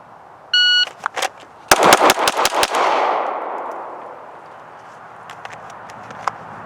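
Pistol shots from concealment at an outdoor range during a bill drill, opening with a shot timer beep, then a fast string of six loud close gunshots that leave a long reverberant echo, followed by a few faint distant shots.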